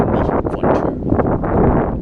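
Strong gusts of wind buffet the microphone outdoors on a cool, breezy day, a loud, continuous rumbling roar that surges and dips.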